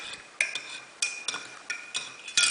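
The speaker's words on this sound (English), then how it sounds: "Give it a stir." A utensil clinks against a metal pot at regular intervals while stirring boiling water on a GTA12 induction cooker, a steady high electronic tone running underneath.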